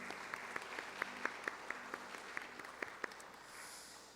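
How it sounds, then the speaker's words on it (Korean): Church congregation applauding after a Sunday service prayer, a steady wash of clapping with sharper individual claps standing out, moderately distant and fading near the end. "다시 한번 큰 박수 한번 줍시다."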